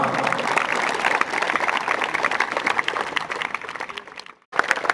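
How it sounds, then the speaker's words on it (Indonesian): A large crowd at a 6th anniversary event in a main stadium in Kendal claps together in a dense, loud, sustained burst, cut by a brief silence just before the end. "Tepuk tangan dulu untuk kita semua."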